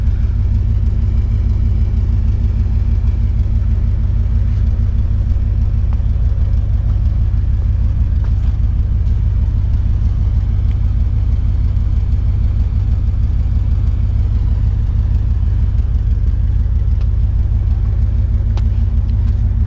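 A 1964 Dodge Custom 880 idles through its Borla exhaust with a deep, steady bass rumble that stays loud and close for the whole stretch. Nobody talks over it.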